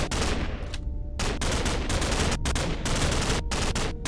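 Rapid gunfire bursts rattle loud and steady in a Minecraft zombie apocalypse battle, with bursts mowing down zombies broken by a few short pauses.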